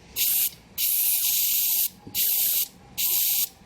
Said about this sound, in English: clean out the oil feed line with carb cleaner